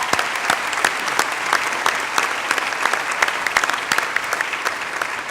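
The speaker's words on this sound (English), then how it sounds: "Please give a round of applause to them." Audience applause at a spring commencement ceremony in an arena, a dense, steady wash of clapping from a large crowd that holds at an even level throughout, with no speech over it.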